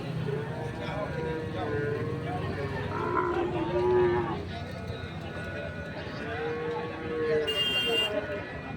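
At a crowded cattle market, Sahiwal bull calves give drawn-out moos amid constant talking, with a brief high buzzing tone near the end.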